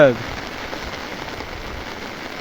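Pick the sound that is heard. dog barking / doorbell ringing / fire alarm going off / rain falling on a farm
rain falling on a farm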